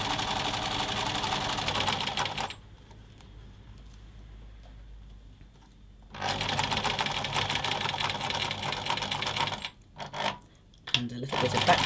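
A domestic sewing machine stitches an apron dress seam, running in loud bursts with a whirring, rapid needle chatter, pausing for a few seconds, then resuming with brief stops near the end.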